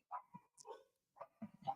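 A dog barks and yips in short, separate bursts, close by and fairly loud, with a whimpering edge between the barks.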